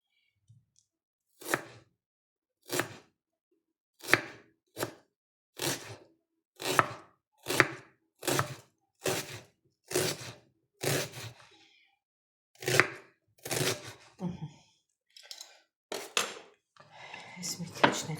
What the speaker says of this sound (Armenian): երևի մի քիչ էլ կտրեմ սոխ